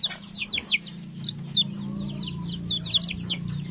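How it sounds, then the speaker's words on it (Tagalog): Rhode Island Red chicks and bantam chickens peep and cluck together, with repeated high chirps over a low steady background hum, fairly close and continuous throughout. "Ang magkakasama kasi dito yung Rhode Island Red na sisiw, tapos yung mga bantam natin."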